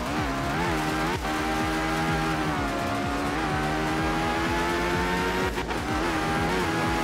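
A Group S rotary-engined rally car in the racing game art of rally, racing on dry gravel roads in Sardinia. Its high-revving engine wails steadily and loudly, with gear changes and brief tire scrabble, and no voices.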